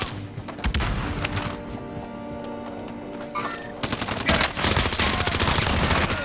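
Close, loud bursts of Tec-9 hip-fire gunfire in Call of Duty Warzone, with rapid shots in clustered volleys, then a short lull, then denser firing near the end.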